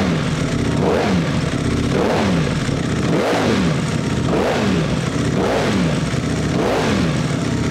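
Motorcycle fitted with a three-quarter Thermic exhaust, upgraded engine map and dry clutch, revved repeatedly in about six evenly spaced blips that rise and fall over a loud, steady idle rumble, with no talking.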